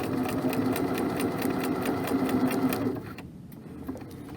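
A sewing machine stitching the short side of an apron strap to a folded edge, running with a steady fast rattling whir for about three seconds before stopping, leaving a quiet hum.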